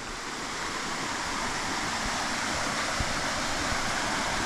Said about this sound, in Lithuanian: Bet jau girdisi šniokščia vanduo